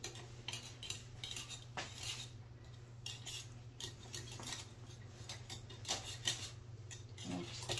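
A pastry knife scrapes batter off a whisk for keto fathead-dough cinnamon rolls, giving a run of soft metallic clicks and scrapes at moderate level against a steady low hum.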